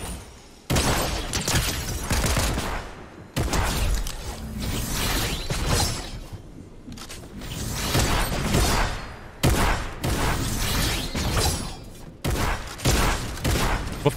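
Video game gunfire from the online shooter Patriota with the Psicopunk weapon: dense, loud bursts of rapid shots in several long volleys separated by brief pauses, with no talking.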